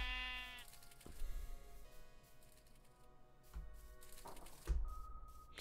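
Sheep in the Minecraft game bleat in a few short, faint calls among soft clicks and shuffling game sounds, with no voice over them.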